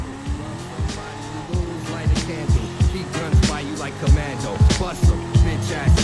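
A Dinka Jester sports car in GTA 5 runs a drag race, untuned and without a turbo. The engine revs up loudly through repeated rhythmic gear shifts, with a rising whine and periodic pulses between the shifts.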